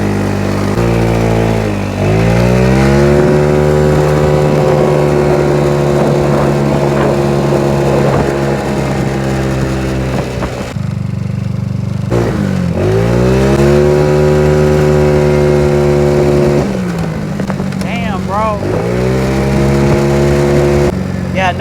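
A Taotao motorbike engine runs loud and close while riding through a downtown area. It holds a steady buzzing drone, revs up and down through several gear changes, and drops briefly once before picking up again.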